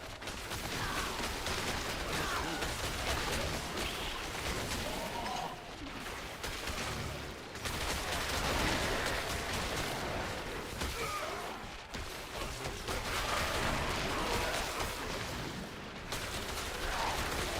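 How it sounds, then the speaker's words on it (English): Poison explosions cast by a druid in an action role-playing game burst in a dense, continuous barrage, loud and close, in repeated waves with brief dips between them. "I don't know what it is about those poison explosions, man."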